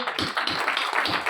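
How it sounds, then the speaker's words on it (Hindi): Audience clapping at a first community gathering in India, a brief dense burst of many hands applauding together, steady and fairly close throughout. "तालियां बजाओ इनके लिए।"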